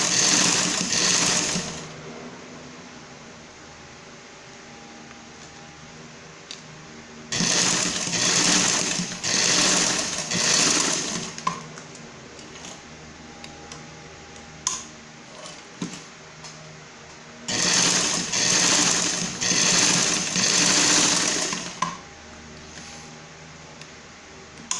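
A sewing machine stitching a paper filter holder runs in three long steady bursts of fast mechanical whirring, separated by quieter pauses with small clicks and handling sounds.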